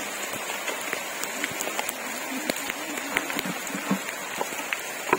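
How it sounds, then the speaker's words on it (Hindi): Heavy rain pours steadily onto a forest, a dense, constant hiss broken by frequent sharp drop hits on nearby surfaces, fairly close and with no one speaking. "बारिश काफी तेज से हो रहा है।"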